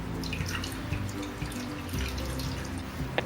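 Water runs and splashes steadily while being poured over freshly made chenna in a kitchen to rinse it for rasgulla, a close, continuous trickle with small drips throughout and no talking.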